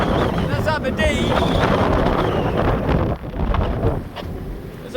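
Strong wind roars across a sailing boat at sea off Aberdeen, buffeting the microphone in a steady, loud rush with gusts, while a person talks over it.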